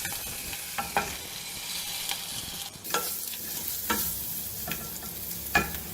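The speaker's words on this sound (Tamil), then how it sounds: "பச்சை மிளகாய் போட்டுக்கிறேங்க, இந்த சிறுபருப்பு போட்டுறேன்" Green chilies and moong dal sizzle and crackle in a hot pan, with a spoon scraping and stirring at irregular moments; close and moderately loud with no talking.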